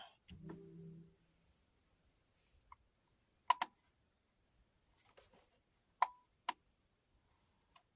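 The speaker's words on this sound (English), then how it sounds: "my mouse keeps double clicking" An Atari ST mouse gives sharp quick clicks in close pairs, like double clicks, spaced by quiet gaps, after a short burst of other sound at the start.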